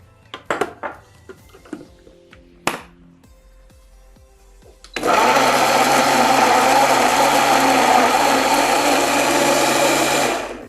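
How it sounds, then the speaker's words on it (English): A few clinks and taps of kitchenware, then an electric blender whirs loudly to life blending cucumbers with water, running steadily for about six seconds before cutting off. "Using my Buchimix blender, of course, I'm going to blend"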